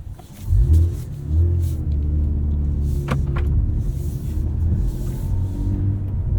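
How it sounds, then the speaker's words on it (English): A 2024 Cadillac CT4-V Blackwing with a six-speed manual gearbox pulling away, a deep engine rumble swelling as it sets off and then holding a steady low drone from inside the cabin, with a couple of sharp clicks. "let's go drive the CT4-V Blackwing and see how it does on the road"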